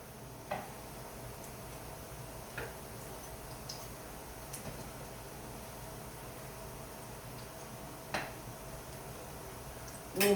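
Salmon sautéing and browning in a pan, a steady faint hiss of frying with occasional soft ticks and pops, quiet and continuous with no talk.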